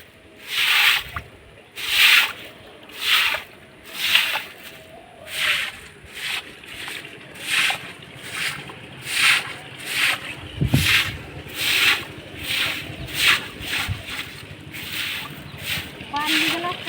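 Repeated rhythmic swishes of water being poured and splashed over potted plants on a rooftop, around a dozen evenly spaced bursts at close range, with a faint voice murmuring underneath.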